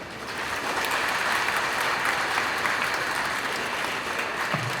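An auditorium audience claps steadily at a stage talk featuring mimicry; the applause is dense, even and sustained for about five seconds with no voices over it.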